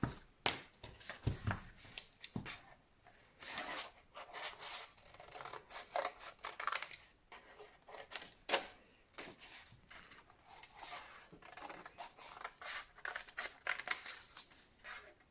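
Scissors snip through folded paper for a stained-glass window craft, making a quiet series of irregular crisp cuts and rustles with short pauses between them.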